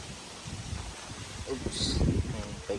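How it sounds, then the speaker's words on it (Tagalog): Wind buffets and rumbles against the microphone with rustling at a campsite at Camp Gilmore, Philippines, while a voice speaks briefly underneath. "ang lakas ang hangin."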